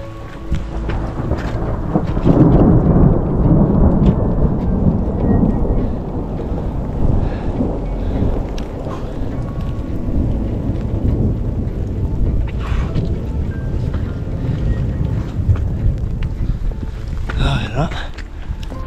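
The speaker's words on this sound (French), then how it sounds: "Rembobiner et compter le nombre de secondes entre l'éclair et le tonnerre." Thunder rumbles and rolls through a high-mountain thunderstorm on the Tour du Mont Blanc, with rain and wind buffeting the microphone, loud and sustained with a sharper crack near the end.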